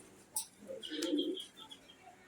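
Pigeons at a farm coo in a soft, low, throaty burst that swells in the middle, with a few brief sharper chirps and calls around it and no talking.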